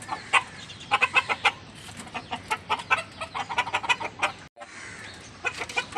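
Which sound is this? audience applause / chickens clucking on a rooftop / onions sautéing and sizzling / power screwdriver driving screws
chickens clucking on a rooftop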